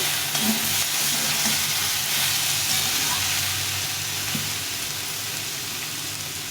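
Spice paste with a pinch of turmeric fries in a pan with a loud, continuous hissing sizzle, close up, with faint scraping from stirring now and then.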